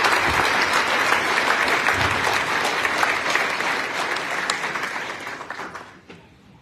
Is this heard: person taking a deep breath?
no